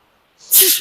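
A single sharp sneeze bursts out after a moment of silence, loud and close, with a brief voiced tail at the end.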